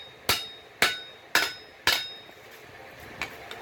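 Hammer blows on a pipe being forged into a hoe, four sharp ringing strikes in steady rhythm followed by two fainter taps, close and alone.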